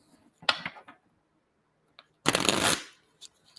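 A deck of tarot cards riffled in two bursts, a brief flutter then a longer, louder shuffle, with small taps and quiet between.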